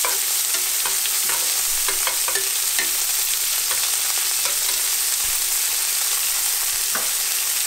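Capers stirred in a hot frying pan while salmon steaks cook: a steady fizzing sizzle runs throughout, broken by scattered scrapes and clicks from stirring, close and fairly loud with no voices.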